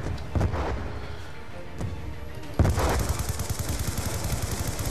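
Gunfire in Call of Duty: Black Ops II, sharp isolated shots early on, then a sustained burst of rapid automatic fire with dense clattering reports.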